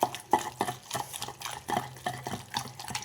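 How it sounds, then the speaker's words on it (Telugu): Ridge gourd and tomato pieces ground coarsely for an old-style chutney in a stone mortar, with a steady rhythm of wet, squelching grinding strokes and soft knocks, several per second, close by. "దీన్ని చక్కగా మరీ మెత్తగా నూరుకోవద్దు"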